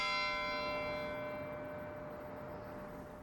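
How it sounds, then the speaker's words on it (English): A church bell of Healy Hall tolling once, a single rich ringing strike that slowly decays, with the bell's long resonant hum lingering over quiet surroundings. "ringing the bells of Healy Hall 500 times in honor and memory of each life lost"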